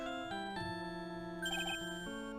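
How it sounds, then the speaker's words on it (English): A mobile phone ringtone plays alone, close and clear: a bright, steady electronic melody of sustained tones that shift in pitch over a couple of seconds. "Oops. Sorry, that's my phone."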